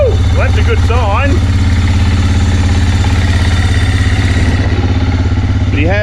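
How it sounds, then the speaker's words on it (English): A quad bike engine idles steadily and close, a constant low rumble throughout, with someone briefly whistling or calling over it. "We have the engine running."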